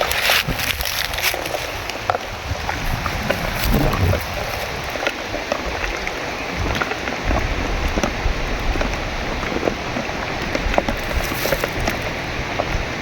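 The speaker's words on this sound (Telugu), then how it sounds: "మాంసం అనేది నీట్గా కడుక్కోవాలన్నమాట అండి." Dried goat meat is washed in water by hand, giving a continuous close splashing and sloshing with scattered drips and knocks that stay steady throughout.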